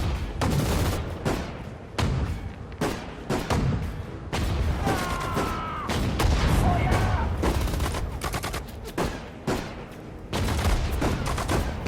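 Anti-tank guns and battlefield fire in Sudden Strike 4 during the siege of Leningrad, repeated heavy booms and bursts of gunfire in a steady, dense barrage with distant artillery underneath.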